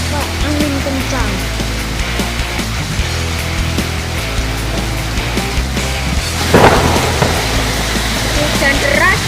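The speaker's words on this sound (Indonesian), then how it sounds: "Hujan deras dan angin dan diselingi petir." Heavy rain with strong wind and thunder in the Magelang area, a constant dense roar of rainfall with a low rumbling undertone and a brief louder surge partway through.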